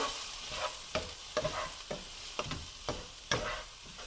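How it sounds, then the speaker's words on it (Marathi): Onions and spices sauté in a pan for an aubergine and potato curry, giving a steady sizzle broken by several sharp scraping stirs of a spoon at irregular intervals, close and moderately loud. "एवढं सगळं झालं की पुन्हा सगळं असं छान सॉटे करून घ्या"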